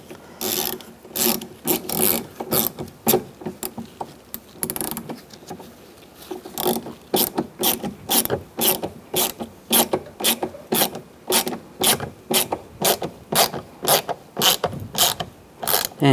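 A ratchet clicks steadily as screws are driven back into a 2011-2015 Chevrolet Cruze front door panel, with bursts of fast, close clicking separated by brief pauses, no voices.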